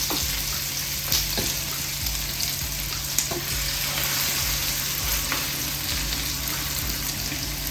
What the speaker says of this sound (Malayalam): മീൻ വറുക്കുന്നതിൻ്റെ എണ്ണ ചൂടായി. അതിലോട്ടിപ്പം നമ്മൾ മസാല ചേർത്ത് വെച്ച മീനില്ലേ, അതിനകത്തോട്ടിട്ട് കൊടുക്കാം.